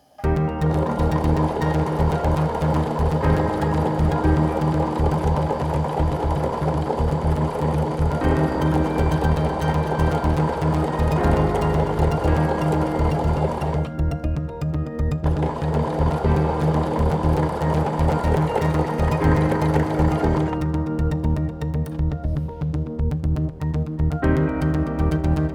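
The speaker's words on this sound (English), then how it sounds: "And I'm going to sew a 1/4 inch away." A sewing machine stitches a quarter-inch seam through pinned quilt fabric for half-square triangles. It runs as a loud, steady mechanical hum and whir, with brief changes in speed and no voices.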